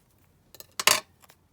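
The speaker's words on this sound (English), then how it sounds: "So just snip that off there at the edge." Scissors snip through a vintage fabric tag at its edge, a few faint clicks followed by one louder, crisp cut, close and isolated in a quiet room.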